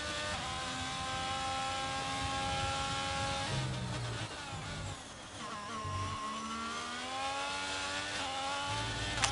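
A Ferrari Formula 1 car lapping in a racing video game at the Bahrain Grand Prix, its high-pitched engine whining and shifting pitch through gear changes, with other cars roaring past close by.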